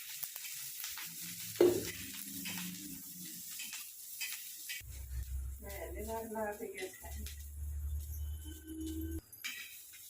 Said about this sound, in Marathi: आता तव्यावर हिरवी मिरची टाकली तेलामध्ये गरम होण्यासाठी